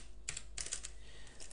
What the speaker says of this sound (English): I'm gonna type in my site name.